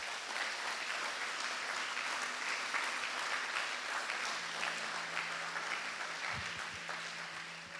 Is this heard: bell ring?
no